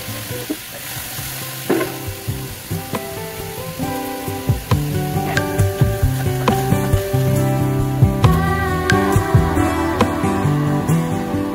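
Potatoes fry in oil with chili, turmeric and salt, a steady loud sizzle broken by repeated sharp scrapes and clacks of stirring, growing busier and more rhythmic as it goes on, with no voices.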